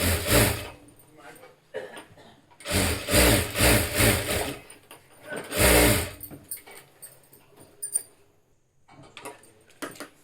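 A sewing machine stitches along a fabric strip in several short, close bursts of rapid whirring, separated by pauses with handling noise and some talk.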